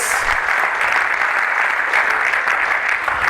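During a sermon, a church audience breaks into applause: a steady, full wash of clapping from many people at a constant moderate loudness, with no speech over it.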